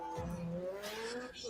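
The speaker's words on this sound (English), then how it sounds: "I think that's actually tire squealing on the dirt." Midget race cars squeal their tires on a dirt track, giving a brief, rising, whining screech over a steady rumble.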